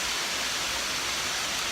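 A city waterfall rushes in a steady, dense, loud wash of falling water, unbroken throughout, with no voices over it.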